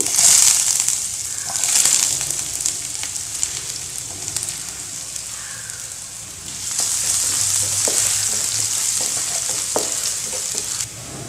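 Mustard seeds crackle and pop in hot oil, followed by ginger frying in the pan. A loud, busy sizzle carries scattered sharp pops and stirring scrapes, easing slightly midway before swelling again, with no talking.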